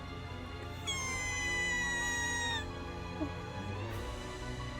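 A cat-like creature in the Twisted Wonderland video game gives a drawn-out, wavering meow lasting nearly two seconds, clear over a steady low musical background, followed by a short fainter cry.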